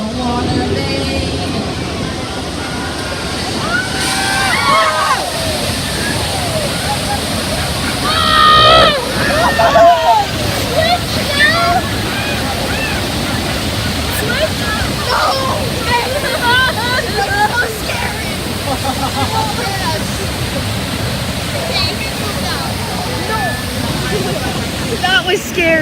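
Water main burst flood effect on the Universal Studios tour: a broad, steady rush of gushing, sloshing water fills the whole stretch, loud and close, with excited voices and shouts from riders scattered over it.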